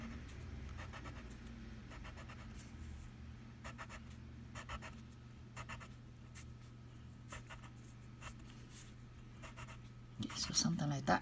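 A pen draws freehand lines on a phase diagram worksheet, making faint scratchy strokes in short repeated bursts, with a louder rustle and faint voice sounds near the end.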